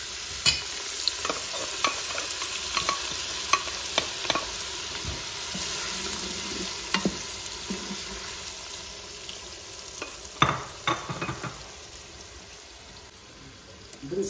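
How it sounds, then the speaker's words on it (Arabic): Onion added to a blend of oils sizzling in a pan for a meat kabsa, a steady frying hiss broken by scattered clatters and scrapes of stirring, close and moderately quiet, no talk. "دابا غادي نضيف هاد الحبه ديال البصله"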